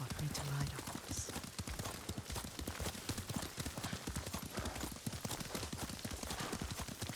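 Horse hooves clip-clop steadily during a ride through a feudal Japanese game world, a continuous rhythmic run of close hoofbeats with a faint whinny and a voice speaking over them.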